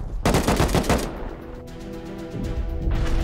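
Rapid bursts of automatic gunfire crack in a firefight in the survival video game Rust, a dense volley of loud shots followed by a lower rumbling tail and more shooting near the end.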